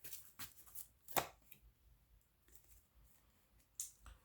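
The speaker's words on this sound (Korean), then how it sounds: "두 장의 카드를 제가 추가적으로 조언을 조금 더 뽑아보도록 할게요" Tarot cards being shuffled and drawn by hand: a few quiet, close flicks and soft riffling snaps spaced irregularly, with near silence between them.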